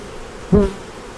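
Honey bees at a productive hive making honey, one brief loud buzz as an insect passes close, over a quiet background.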